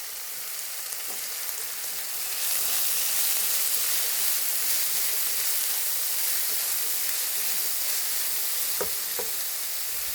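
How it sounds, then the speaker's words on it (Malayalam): Onions, shallots, green chillies and curry leaves sautéing in a pan, a steady bright sizzle swelling louder after a couple of seconds with faint stirring clicks, no voices. "സവാള, ഉള്ളി, പച്ചമുളക്, കറിവേപ്പില. നമുക്ക് നല്ലതായിട്ട് വഴറ്റിയെടുക്കാം"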